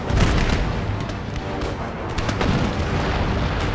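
Dense battle din of musket volleys and cannon fire in Empire: Total War, a continuous rumbling roar of overlapping booms and crackling shots with no break.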